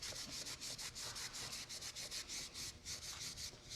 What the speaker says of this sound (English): I'm just kind of making this a little bit, smoothing out my wax, getting it all the way in here